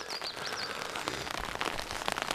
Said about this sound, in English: Yeah, it's very raining